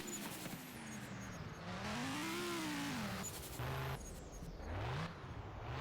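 A rally car engine in the Roblox WRC racing game revs up and down in smooth rising and falling surges, with a few quick throttle blips. The engine plays alone and is fairly quiet overall.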